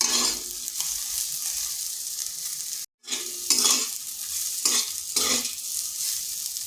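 Bitter gourd slices fry in hot oil with a bright, continuous sizzle, broken by repeated spatula stirs that scrape and rustle in bursts and one brief dropout, close and loud with no talk.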